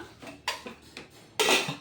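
A metal vessel for heating milk clinks and scrapes as it is handled, giving a few light metallic knocks followed by a louder clatter near the end.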